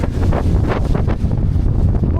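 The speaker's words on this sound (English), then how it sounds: "my God, is it windy all day today" Strong, gusty wind buffets the microphone outdoors on a windy day in Minneapolis, a constant loud roaring rumble with surging gusts and no speech.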